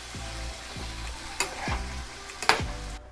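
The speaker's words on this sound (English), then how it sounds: "keep stirring until the beef is cooked about like less than 10 minutes" Beef fries over medium-high heat in a pan while being stirred, with a steady sizzle beneath repeated spatula scrapes and a couple of sharper knocks, no speech.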